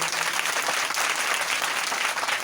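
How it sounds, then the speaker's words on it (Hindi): A crowd at a BSP political gathering claps loudly for Pankaj, with dense, steady applause lasting the full short clip and no speech over it. "तो एक बार जोरदार ताली भाई पंकज के लिए हो जाए,"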